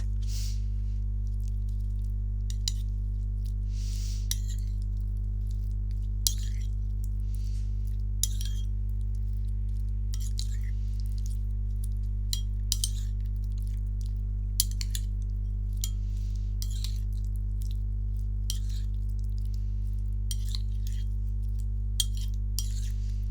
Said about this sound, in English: now let's give this a little mix